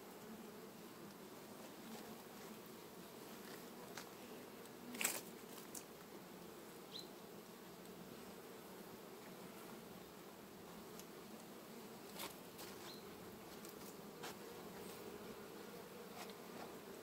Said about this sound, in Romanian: Iată, e albina.